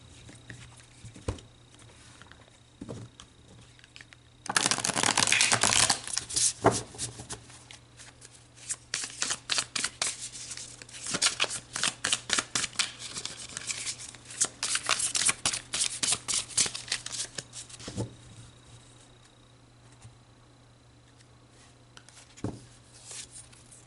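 Tarot cards are shuffled up close in a long run of rapid riffling, flapping bursts with brief pauses in between, quiet before and after, and no talking.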